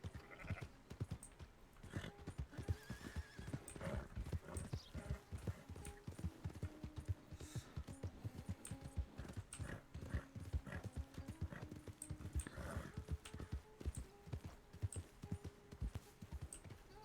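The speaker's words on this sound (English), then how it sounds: "you can move once you've heard my horse's footsteps recede." A horse's hooves clip-clop in the RedM western roleplay game, a steady rhythmic patter of hoofbeats with a few faint animal calls mixed in, fairly quiet throughout.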